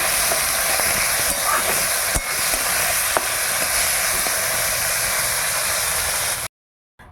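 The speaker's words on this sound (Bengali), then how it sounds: "মাছগুলো তেলের উপর দিয়ে দিলাম এবার লাল লাল করে ভেজে নেবো" Prawns fry in hot oil in a wok over a wood fire, giving a loud, steady, close sizzle with a few sharp pops and crackles before the sound cuts out abruptly near the end.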